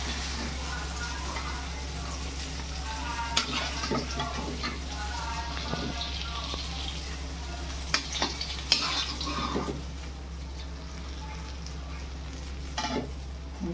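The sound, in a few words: river fish frying in oil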